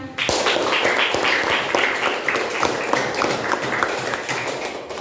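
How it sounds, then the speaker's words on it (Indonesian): Applause from a classroom of students in an Islamic studies lesson, a dense, steady patter of many hands clapping at moderate loudness for the full stretch, with faint voices mixed in. "Tepuk tangan buat semuanya."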